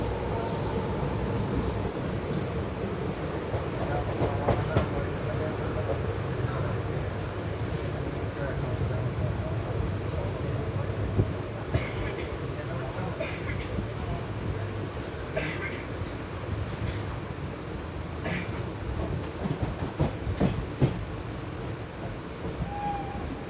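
Onboard the 12134 Mangaluru–Mumbai Superfast Express as it runs on the rails through a station loop line, with a continuous loud rumble and rattle of the coach and rhythmic clatter, with talk in places.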